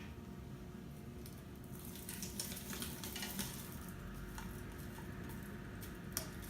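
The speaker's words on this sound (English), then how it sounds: "As I am cooking the shrimp for about 5 minutes" Shrimp with tails on sizzling and frying steadily in a pan at home, a continuous close crackle with occasional stirring clinks and ticks, no talking.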